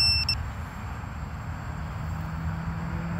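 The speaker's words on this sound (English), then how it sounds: "Lost model alarm seems to work." A 5-inch FPV drone with a BrainFPV Radix board, 60 A ESCs on 5S and 2150 motors sounds its lost-model alarm. A few short high beeps at the start sit over a steady background hum.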